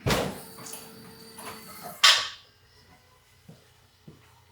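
An Audi S5 car door opens with a sharp click and a scraping rush of noise, then a few soft knocks follow in a quieter space.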